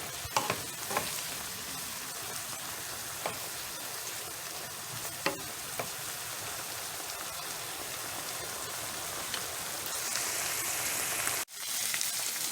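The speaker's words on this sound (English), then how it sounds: "Continue sauteing until you see your veggies" Chopped vegetables for Cajun dirty rice sauteing in a hot pan, a steady close sizzle with occasional clicks and scrapes of stirring throughout, no voices.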